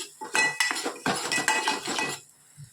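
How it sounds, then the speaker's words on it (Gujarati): Ground spice masala roasting in a pan, with quick, continuous clattering and scraping of a metal spoon against the pan, busy and close, fading near the end, with no talking. "મસાલા પર સરસ શેકી લઈએ"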